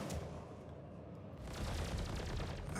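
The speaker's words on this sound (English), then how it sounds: "Lock a missile. Fire." A missile launches from a fighter ship in a space combat game, a loud rushing roar with crackling bursts that swells and holds at close range.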